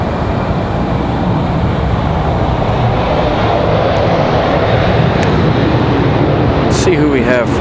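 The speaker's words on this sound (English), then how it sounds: "Those are our Air Canada E175." An Air Canada Embraer E175 airliner arrives at Raleigh-Durham International Airport, its jet engines roaring loud and steady throughout. Brief clicks and a rising chirp come near the end.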